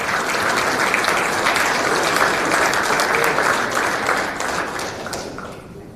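Steady applause from a banquet audience at a college baseball conference championship awards dinner, dense clapping that holds loud and even for several seconds before thinning and fading toward the end.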